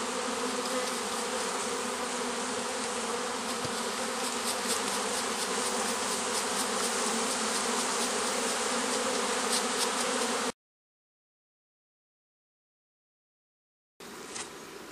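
Dense, steady buzzing of many honeybees close by, continuous for about ten seconds, then a gap of silence before the buzzing returns.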